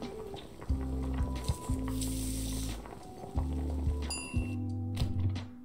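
Squishy liquid mixing and clattering from a minion preparing ingredients in the Bone's Cafe kitchen game, in repeated short bursts under steady game music.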